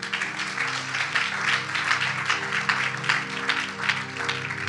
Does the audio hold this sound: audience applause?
yes